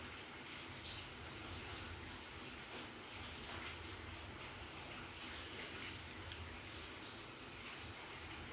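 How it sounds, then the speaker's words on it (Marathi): Water poured into a pan of spicy paneer bhaji on the stove, a soft continuous splashing hiss that stays faint and even for the whole stretch. "आता यामध्ये पाणी टाकत आहे"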